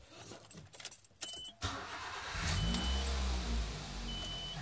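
A 1990s car's engine fires up after a brief jangle of keys and settles into a steady, rumbling idle that runs on loudly to the end.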